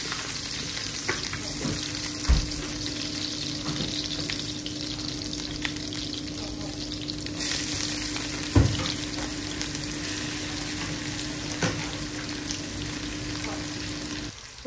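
Garlic and pasta ingredients fry in a pan with a steady, continuous sizzle and a few sharp stirring knocks, all under a constant droning hum from a nearby dryer running indoors.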